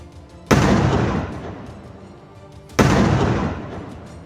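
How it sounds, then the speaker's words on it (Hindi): Two loud, sharp explosions a couple of seconds apart in the mountains of Kishtwar, Jammu and Kashmir, each a sudden boom that rolls and echoes away slowly, as if carrying across open terrain. "एक शोर होता है और फिर तेज धमाका।"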